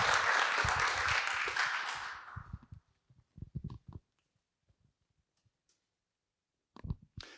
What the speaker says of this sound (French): Je vous laisse faire un tonnerre d'applaudissements pour ce projet développé par Sheikou, Rindra et Sébastien